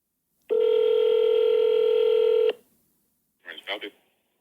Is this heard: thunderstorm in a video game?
no